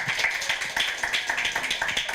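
An audience applauds at the end of a talk on foot health: dense, continuous clapping from many hands in a room, steady and moderately loud for about two seconds.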